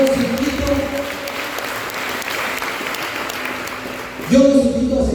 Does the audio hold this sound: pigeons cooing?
no